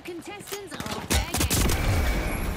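Rapid gunshots striking the player in the shooter The Finals on PS5, a dense burst of sharp impacts arriving in the second half after a quieter stretch of game sounds, loud and close.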